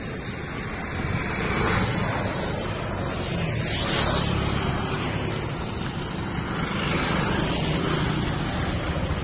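Steady roadside din of a main road in a Maharashtra town while waiting for an auto-rickshaw, broad continuous rumble and wash of passing vehicles with gusts of wind noise, no clear talk.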